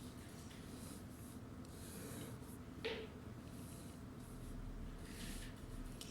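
Hand-drawing a table on a board or paper: soft, continuous scratching and rubbing strokes at low level, with one brief sharper squeak partway through, no talking over it.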